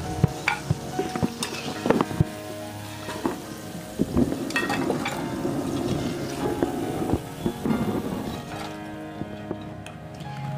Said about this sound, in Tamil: இப்ப நம்மளுக்கு கொஞ்சம் சலசலப்பு கம்மியா இருக்கு